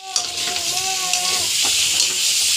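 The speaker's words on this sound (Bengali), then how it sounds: "ডিমগুলো এক পিঠ ভাজা হয়ে গেল" Eggs fry in a hot pan with a continuous, close sizzle and crackle, and a few short tonal sounds rise over it near the start.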